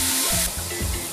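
Soy sauce poured into a hot pan for Filipino humba pork sets off a loud, broad sizzle and hiss, close up and continuous through the short moment.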